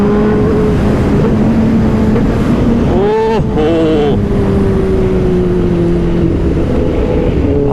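A Kawasaki ZX10R superbike engine roars as the throttle is pulled, with rising and falling revs heard up close through heavy wind noise. A brief voiced exclamation comes partway through.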